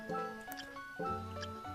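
Splashy, squishing liquid steps as a character walks across water in the video game Castlevania: Aria of Sorrow, a few soft wet footfalls over a sustained musical game backdrop.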